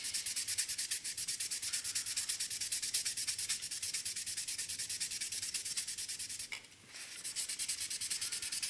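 Sandpaper rubbing the plastic body of a 1/24 Revell Ferrari California model kit, close and steady in rapid back-and-forth strokes, with a short pause near the end.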